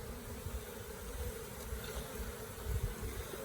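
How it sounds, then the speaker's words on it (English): Honeybees buzzing steadily in a dense, low swarm during a hive cutout from an old plantation home, a continuous close hum with no talk. "Shake any other bees, if it's not covered, into the box"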